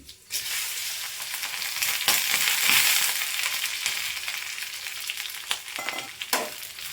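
Black grapes, coconut pieces and nendra banana frying in a pan for a Kerala-style snack: a sustained close sizzle broken by several sharp stirring and scraping knocks.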